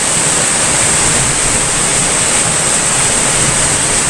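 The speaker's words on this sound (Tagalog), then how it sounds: "Kulo na siya." Calabash miracle fruit juice boils in a pot, a loud, dense, continuous bubbling hiss with no pauses and no speech.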